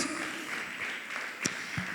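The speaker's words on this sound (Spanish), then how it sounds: "Dale un fuerte aplauso a Dios." A church congregation applauding, a broad wash of clapping under a few faint vocal sounds, moderately loud and continuous.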